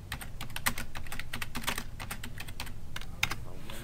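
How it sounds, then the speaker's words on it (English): Someone types on a computer keyboard while working in an Excel spreadsheet, a quick uneven run of close, crisp key clicks with a few harder taps. "I want to type something here"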